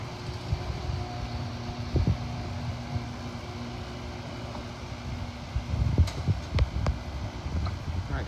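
A Chamberlain 1/2 HP chain-drive garage door opener runs with a steady motor hum and throb, the chain adding a rumble and a few sharp clicks and clanks near the end.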